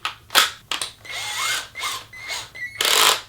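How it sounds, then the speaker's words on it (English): A power drill fitted with a Forstner bit runs in short bursts, whining up and cutting off repeatedly, close and loud, while boring into an IKEA LINNMON table. "Get our Forstner bit, get our drill."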